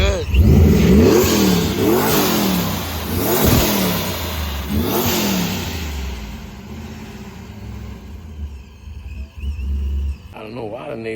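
A 408 engine in a small truck revs hard several times in quick bursts, loud and close, then settles to a rough idle; people talk over the engine.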